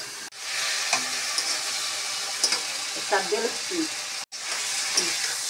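Ridge gourd and potato fry in a pan with a continuous close sizzle, punctuated by light clinks and stirring scrapes, with no talking.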